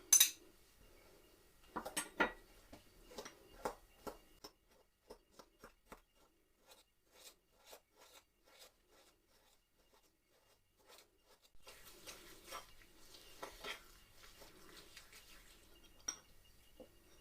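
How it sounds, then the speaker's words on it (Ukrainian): Fresh yeast being rubbed together with sugar in a bowl for yolk-enriched doughnut dough, giving soft scraping and clinking strokes in short bursts, close and fairly quiet, with a denser stretch of rubbing toward the end. "Спочатку дріжджі розтираємо з цукром"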